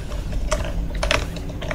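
Mechanical whirring and clicking of a robot vacuum cleaner in the horror video game Five Nights at Freddy's: Security Breach, a steady low hum with brief ratcheting, gear-like bursts, moderately close with no talk.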